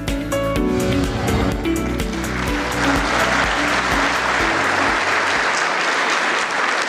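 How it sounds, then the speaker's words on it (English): A ceremony audience applauds an award recipient at a sheriff's office awards event, the clapping rising under fading music at the start and then continuing strong and dense on its own. "please give a round of applause for Mr. Al Betcher"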